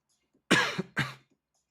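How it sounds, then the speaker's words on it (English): A single close, loud cough in two sharp bursts from a streamer at a desk, alone in otherwise quiet surroundings. "that cough was probably pretty loud and scared some people"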